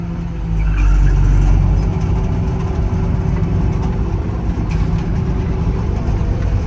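A Claas Dominator 58 Special combine harvester with 1569 engine hours, imported from Germany, runs just after starting, producing a loud, steady, deep diesel rumble throughout with no voices.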